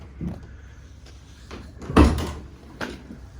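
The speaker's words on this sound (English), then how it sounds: "If we open up the rear of the vehicle" Rear doors of a 2014 Fiat Ducato medium-wheelbase panel van swing open with a short clunk of the latch, followed by a softer knock, close and fairly loud with no talking.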